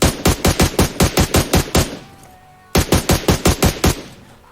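Rapid automatic gunfire from a cheater in an online shooter, two long bursts of evenly spaced loud shots separated by a brief quiet gap, heard alone with no talking.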